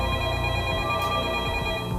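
An anonymous telephone call rings out as a steady electronic tone, sounding continuously and moderately loud over a low background hum, with no talking.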